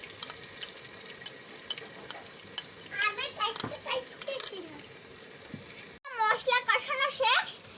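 Turmeric, coriander and cumin spices stirred and sautéed in a pan, a soft frying hiss with scattered spoon clicks while voices, including a child's, chatter over it.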